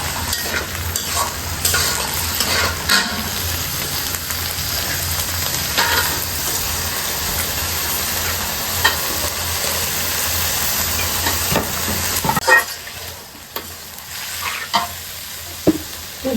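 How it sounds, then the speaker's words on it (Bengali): Lentils (dal) fry in a wok on a stove with a continuous loud sizzle and hiss, punctuated by occasional scraping and clatter, easing to a quieter sizzle near the end. "আম্মু হচ্ছে এখানে ডালগুলো দিয়ে দিল চুলায়,"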